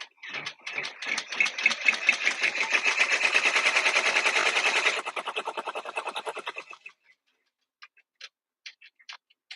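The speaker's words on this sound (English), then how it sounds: "So it's going to stitch both bunny ears, and then I'll come back and lay down the pink for the bunny ears" An embroidery-style sewing machine stitches appliqué bunny ears, a fast, steady mechanical clatter of rapid needle strokes for several seconds that eases off and stops, followed by a few scattered faint clicks.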